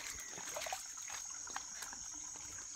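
A weak household water source used for bathing, running low in the dry months, gives a very faint, steady trickle with soft splashy ticks throughout.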